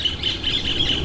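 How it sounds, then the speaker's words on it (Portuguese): A small bird singing nearby, a run of quick bright repeated chirps and squawks over a low background hum, with no talk. "Olha o passarinho cantando, que coisa bonita."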